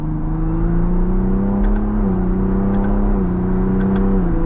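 A 2024 Ford Bronco Raptor with a twin-turbo EcoBoost engine accelerates onto a highway, a steady loud engine drone rising in pitch with quick, smooth gear changes. No one speaks.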